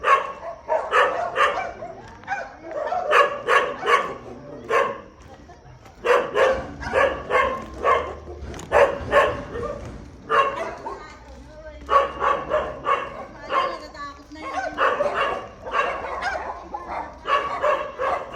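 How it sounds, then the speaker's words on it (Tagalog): Dogs bark repeatedly in quick bursts, sharp and close, with short pauses between volleys and a few yips mixed in. "Daming aso."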